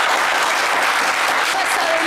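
Loud, dense studio audience applause for contestants on a French magic game show, a sustained wall of clapping close up with a hint of cheering.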